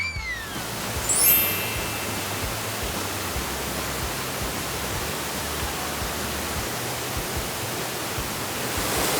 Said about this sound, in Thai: รอบๆเนี้ยมีแต่ป่าสีเขียวและเสียงน้ำตกสดชื่นมากๆ